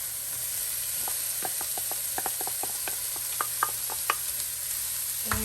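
Celery and carrots sizzle in a frying pan, a steady hiss with scattered clicks and taps of a utensil stirring, close and moderately loud with no talking.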